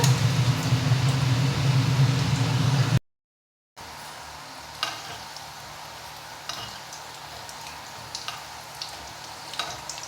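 Fish fingers frying in a pan over a low flame. A steady sizzle fills the first few seconds, then after a short silent cut comes a quieter frying hiss with occasional small ticks and pops.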